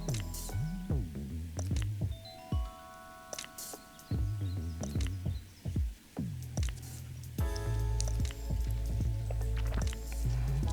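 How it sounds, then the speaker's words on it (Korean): Squid bait and a bead being threaded onto a cod fishing hook, heard as close, irregular soft squishes, clicks and wet rubbing handling noises, with a boat engine droning underneath. "구슬을 하나 넣고 다시 꼴뚜기를 꽂아줄게요"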